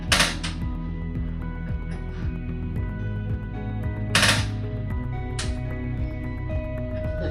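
Sharp clicks of a propane stove igniter in a 2020 Coachmen Freedom Express Liberty Edition RV, a few distinct snaps spaced seconds apart over a steady background hum.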